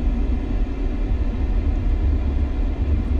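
An F-5E jet in the DCS flight simulator game at full afterburner on its takeoff roll, a continuous heavy low roar with a dense rumbling texture, loud and steady throughout, without speech.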